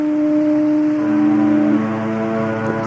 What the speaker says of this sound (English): The concert of foghorns from the San Francisco Bay.